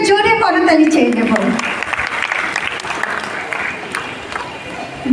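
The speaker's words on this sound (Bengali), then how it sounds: "আপনারা একটু করতালি দিয়ে এনাদেরকে সম্মানিত করুন" An audience at a Teacher's Day celebration applauds to honor the teachers, a dense burst of clapping that carries on steadily before tapering slightly, with a voice speaking over the start.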